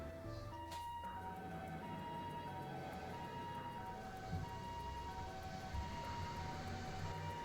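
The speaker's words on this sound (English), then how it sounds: "Jeez, that's a lot of ambulance right there." Several ambulance sirens from the game The Legend of Heroes: Trails to Azure wail together over a steady ambient wash, fairly faint and sustained, as though passing at a distance.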